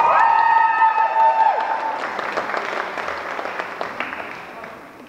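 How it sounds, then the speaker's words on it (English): A crowd at the IPAAT 2016 pole competition applauds and cheers for advanced finalist Dominika Kovacova, loud at first and then gradually fading away over about five seconds. "Let's have a massive round of applause for Dominika."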